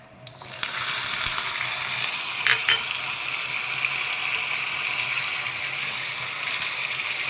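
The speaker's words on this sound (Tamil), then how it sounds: "இந்த கட் பண்ண தேங்காயை நெய் விட்டு வறுத்துக்கலாம்" Cut coconut pieces frying in ghee, a loud sizzle bursting in as they hit the pan and then settling into a steady close hiss with a brief clatter partway through.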